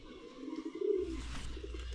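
A pigeon or dove coos close by, a short low throaty call in the middle, followed by louder rumbling background noise with no talk.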